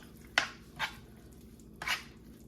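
Spoon stirring a dish of extra sharp cheese and broth, three soft wet squishing strokes at a slow, uneven pace, close and fairly quiet over a faint background hum.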